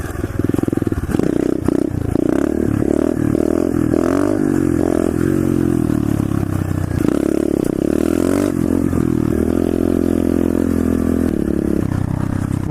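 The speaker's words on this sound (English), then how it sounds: "I'm gonna do some wheelie tricks." A pit bike engine revs hard and continuously during wheelie tricks, its pitch rising and falling as the throttle opens and eases, loud and close, with some clattering mixed in.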